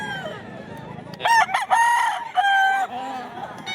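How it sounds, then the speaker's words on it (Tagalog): A rooster crows loudly and close by at a tiangge market in Bocaue, two long harmonic crows in quick succession over a low murmur of background noise. "Ito pa yung mga ano niya, mga manok niya."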